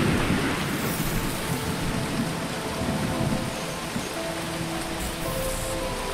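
Rain falls steadily in the video game Phoning Home, a continuous dense patter of drops with a faint low rumble beneath, held at an even level throughout.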